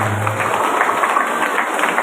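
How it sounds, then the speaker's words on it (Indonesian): Applause from a school audience for children at an Isra Miraj commemoration at a vocational school, steady dense clapping throughout, fairly loud with a low hum underneath. "tepuk tangan lagi untuk anak-anak yang luar biasa"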